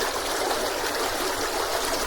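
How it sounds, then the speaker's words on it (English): A fresh, crystal clear stream of water flowing steadily, a dense continuous babbling hiss close by with no pauses and no voices. "We got some fresh stream of water, a crystal clear one"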